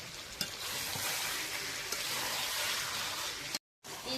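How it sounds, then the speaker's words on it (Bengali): Raw jackfruit and potatoes tossed into frying meat, a dense steady sizzle with a few sharp clatters of stirring, then a brief break and the fry resumes. "এবার এঁচড় আর আলুটা দিয়ে দেবো।"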